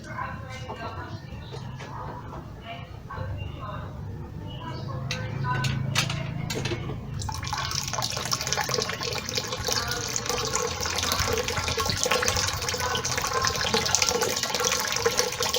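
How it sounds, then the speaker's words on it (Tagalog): Water starts gushing into a tank through a float valve inlet once the valve is opened. The flow jumps to a loud, steady hiss and splash about halfway through and follows quieter handling noises. "buksan ko muna yung valve para sa inlet niya"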